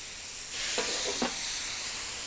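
Water hits a hot griddle cooking chicken smash sliders under a lid. A soft, even sizzle and steam hiss swells, with a couple of brief bubbling pops near the middle.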